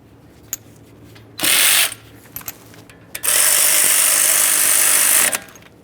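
A ratchet tightens brake caliper slider pin mounting bolts on a 2009-2014 Nissan Maxima: brief clicks, then a short burst of rapid ratcheting, a few more clicks, and a longer continuous ratcheting run, close and clear.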